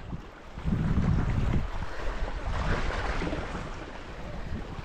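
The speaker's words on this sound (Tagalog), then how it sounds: "May paparating na malaking bangka, baka si Sprakatak na yan at saka si Katatay" A steady, broad wash of water and wind noise with a low rumbling swell, like a large boat moving across open water nearby; no speech.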